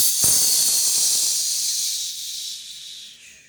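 A storyteller's voice imitates a loud, harsh shh, one long breathy hiss that starts abruptly and slowly fades out, heard alone.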